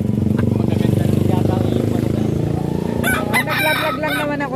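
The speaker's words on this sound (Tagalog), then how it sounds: "Yan eh, ito lang mga manok dito." Roosters crow loudly and close by among clucking chickens at a poultry spot in Lipa, Batangas, with a voice talking underneath and a sharp burst of crowing near the end.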